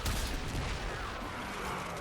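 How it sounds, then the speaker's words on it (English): Explosions from a cannon-style weapon in the Warframe video game, with an initial blast that breaks off into further explosions. A dense, continuous rumble of booms and crackling bursts runs loud throughout, with no talk over it. "Oh, and it breaks off into other explosions."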